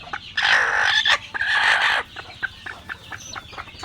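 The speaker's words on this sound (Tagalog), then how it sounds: "May mga napipisa na naman tayo sisiw." Chickens and newly hatched chicks calling close by, with loud bursts of clucking and crowing followed by shorter, softer peeps and clucks.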